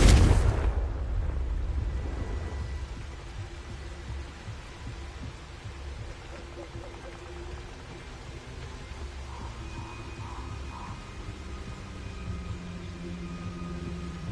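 A Confringo blasting spell from Hogwarts Legacy detonates with a loud, broadband boom at the start, then decays into a long rumbling tail that stays behind a low, steady game soundscape with faint chimes.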